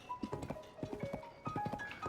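Horse hooves clip-clopping in the video game Zelda: Tears of the Kingdom, a quick run of close, regular hoof beats with a short pause midway before the steady trot resumes.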